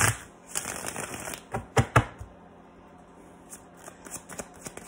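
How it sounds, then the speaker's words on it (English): Tarot cards are reshuffled by hand, giving a close run of quick riffling flutters and a few sharp slaps as the deck is squared, then quieter soft handling. "Let's reshuffle."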